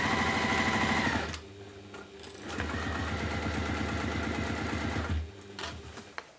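Sewing machine rapidly stitching lining fabric for a wax tote bag, a fast rhythmic mechanical whir running in bursts with short pauses between runs, close and fairly quiet.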